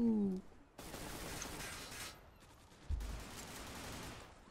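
Rapid gunfire bursts in the online shooter Zula, starting after a short voice and continuing as dense, fairly loud crackling volleys with a heavier thump near the three-second mark.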